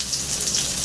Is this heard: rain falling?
yes